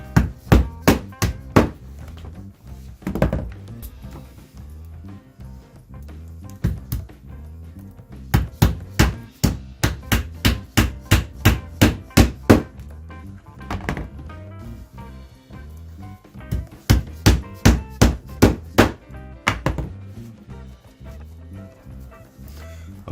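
Glued wooden pegs are hammered into stripped screw holes on an old door hinge. Loud, crisp hammer blows land in three quick rhythmic bursts of repeated strikes, with short pauses between them.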